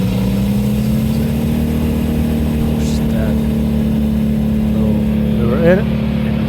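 A Vermeer machine's engine runs steadily at high revs outdoors, a loud constant mid-pitched drone with a faint voice briefly audible over it.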